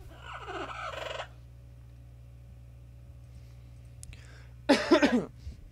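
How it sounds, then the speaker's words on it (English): Bird calls from a modded Minecraft world, Feed The Beast, come as two short gobbling, warbling bursts, one at the start and a louder one near the end, with quiet stretches between them. "What kind of bird is that? It's a weird looking bird."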